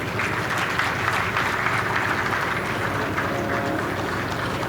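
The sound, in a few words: audience applause at a state investment summit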